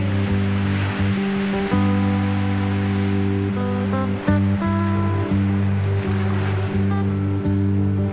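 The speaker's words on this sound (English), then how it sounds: "Nearby sandy beach usually means bone-crushing shore break" Ocean surf breaks hard on a sandy Hawaiian beach known for heavy shore break, a continuous loud roar of waves mixed with a steady low droning hum throughout.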